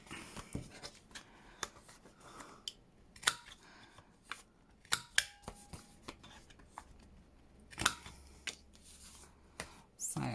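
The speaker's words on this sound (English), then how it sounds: "I think I'm just going to have to trim that a little bit." Scissors snip and trim a paper journal card, giving a series of sharp, close, quiet cuts and rustles spaced irregularly, with faint paper handling between them.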